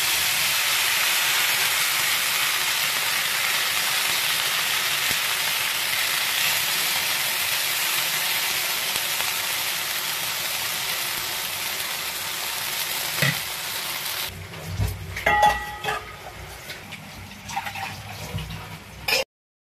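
Dosa batter fries on a hot pan with a steady, close broadband sizzle that runs for most of the stretch, then breaks into scattered clinks and scraping near the end before falling silent.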